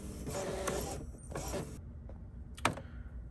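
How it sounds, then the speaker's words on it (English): An Epson EcoTank sublimation printer runs a nozzle check, the print head carriage sliding across with soft mechanical whirs and creaks, then a brief sharp click near the end. "the print head is moving over"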